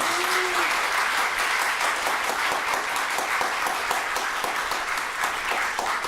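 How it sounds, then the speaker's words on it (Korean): Warm, steady applause from a congregation at a Sunday family Buddhist service in a temple, dense clapping sustained for several seconds, fairly close and loud. "환영의 뜨거운 박수 부탁드립니다"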